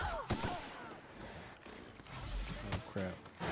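Gunfire in the sci-fi video game The Outer Worlds, a few sharp shots and scattered bursts at moderate volume, mixed with game ambience and scuffling noises.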